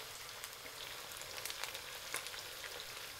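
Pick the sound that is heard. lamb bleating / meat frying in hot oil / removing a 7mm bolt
meat frying in hot oil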